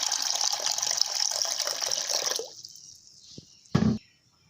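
Water poured from a tap onto overnight-soaked peas in a pot before boiling, a steady close gushing splash for a few seconds that stops, followed by a brief knock and a short clatter.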